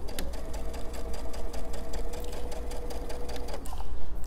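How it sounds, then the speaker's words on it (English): A sewing machine stitches pajama fabric in a quick, even run of rapid needle clicks close by, stopping shortly before the end, with a soft rustle of fabric after and no speech. "Okay, so we're gonna sew this down and then we're gonna go to the serger."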